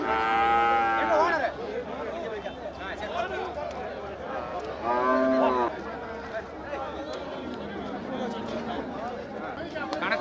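At the Oddanchatram cattle market in Dindigul, cattle let out two long, loud moos, one at the start and one midway, over steady crowd chatter and people talking nearby.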